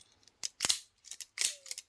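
Spring-loaded cable cutting shears are handled and snapped, giving a quick series of sharp metallic clicks and snips close up in a quiet room, roughly five short bursts.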